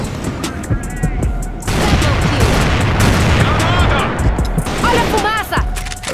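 Rapid gunfire in the online shooter CrossFire, dense bursts of shots and booming reports running almost continuously and loud, with a brief lull early on and possible voices mixed in.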